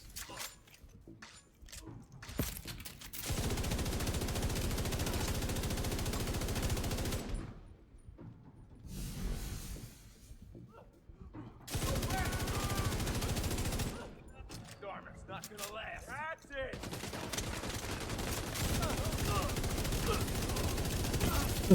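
A light machine gun fires in The Division 2 in long, sustained bursts of rapid automatic fire with short gaps between them, loud and dense, with game effects and occasional voices around it.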